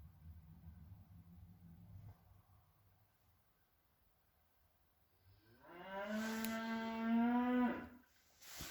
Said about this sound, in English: Yes, that cow is still in the shed because he misbehaved